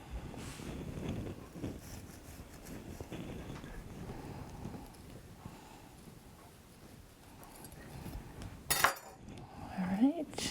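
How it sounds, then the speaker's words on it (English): A knife cuts through a baked Guinness cake with quiet, scraping strokes close by, ending in a couple of sharper clinks and scrapes of metal against a plate. "now we're going to cut our second cake"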